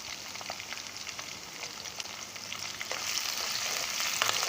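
Garlic and green chillies fry in hot oil for an aloo baingan sabzi, giving a steady, close crackling sizzle that grows slightly louder and busier toward the end, with no talking.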